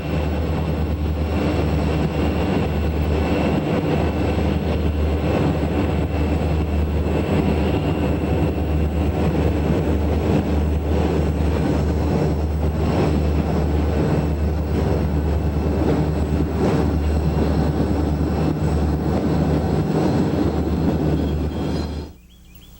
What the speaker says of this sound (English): C and NW number 6810 heads southbound over Pine Bank Trestle.